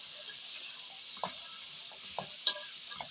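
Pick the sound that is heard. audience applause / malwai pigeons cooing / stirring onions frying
stirring onions frying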